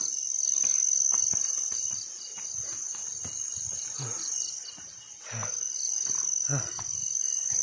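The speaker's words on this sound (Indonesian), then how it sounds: "Itu suara-suara jangkrik." Crickets chirp in a continuous, shrill drone at night near a river, with faint rustling and soft scattered knocks beneath.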